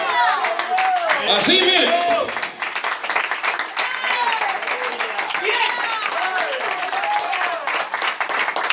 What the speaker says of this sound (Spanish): Si va a aplaudir, hágalo bien, hermanito.